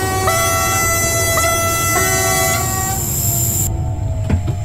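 A Michelin railcar horn in Train Simulator 2016 gives three short loud toots, then a sustained blast that cuts off, over the heavy rumble of the rail vehicle, heard from an exterior view.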